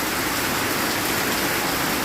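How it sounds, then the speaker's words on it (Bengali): Heavy rain pours down steadily, a dense continuous hiss of drops with no voices, close and loud throughout. "জোর বৃষ্টি নেমে গেছে।"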